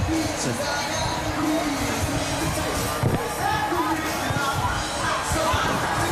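A large crowd cheers and shouts at the Astros World Series parade in Houston, a dense roar heard close with scattered bangs and voices in the mix.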